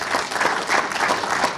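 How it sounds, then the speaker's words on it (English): Energetic applause at a community meet-and-greet with the Toronto police chief, a crowd clapping loudly and densely in a brief, continuous burst close by. "Give yourselves a round of applause one more time"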